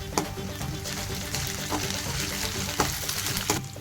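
Browned onions fry with ginger-garlic paste for a chicken curry, a steady close sizzle broken by a few sharp clicks of the spoon stirring in the pan.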